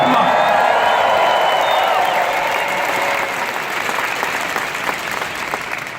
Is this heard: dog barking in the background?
no